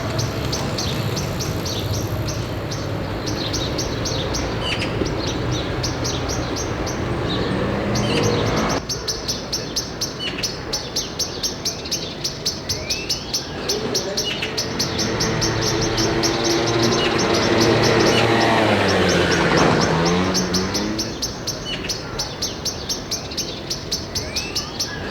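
Blackcaps sing in Parc de Belleville, Paris, their varied warbling phrases rising and falling over a dense bed of city hum and constant insect-like chirping, loud and continuous for about twenty-five seconds with no voices.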